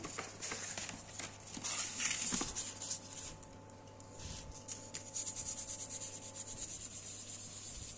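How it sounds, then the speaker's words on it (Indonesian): Close, light rubbing of 1000-grit sandpaper on Yamaha X-Ride oil pump parts in quick short strokes, a soft scratchy hiss over a faint electrical hum. "kita akan amplas halus sedikit ya di komponen-komponen ini pakai amplas 1000"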